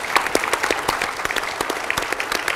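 Luncheon audience clapping at a trade fair presentation, a dense, steady round of applause from many hands filling the room without a break, no voices over it.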